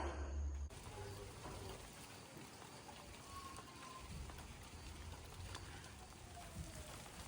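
Steady, soft rain patters continuously on surfaces outdoors on a homestead in September, an even hiss with occasional faint drips, no voices.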